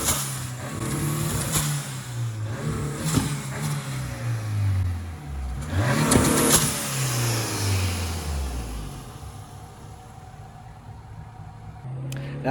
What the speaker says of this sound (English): we did a little bit of revving to celebrate that we're back on the road